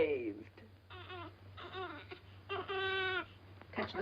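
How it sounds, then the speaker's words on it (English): A baby cries in a domestic scene, with a run of short, wailing sobs in bursts that rise and fall, close and fairly loud, and some voices in between. "He's been crying for 5 minutes."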